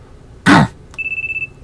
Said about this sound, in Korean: 이 소리는 휴대폰 소리네요.